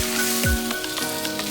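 Parathas cook on a hot griddle with a steady, close crackling sizzle, and no one speaks.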